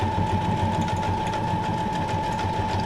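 A sewing machine runs steadily while stitching a line through paper scraps for junk journal ephemera, giving a continuous close mechanical whir with a fast even motor pulse and no talking.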